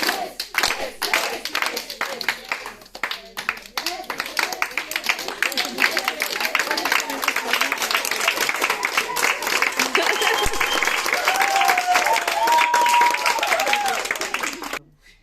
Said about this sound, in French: La main en bas, on applaudit,